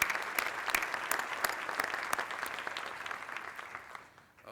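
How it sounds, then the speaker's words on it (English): A dense round of applause from a panel discussion audience, steady and fairly full for about four seconds before tapering off near the end. "please give them a big round of applause for their commitment to be here today"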